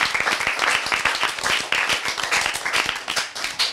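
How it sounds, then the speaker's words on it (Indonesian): A group breaks into applause during a talk about a university drum band, dense rapid clapping from several people nearby, fairly loud and continuous for a few seconds. "Tepuk tangan untuk kita semua."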